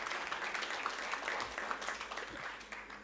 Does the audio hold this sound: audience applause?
yes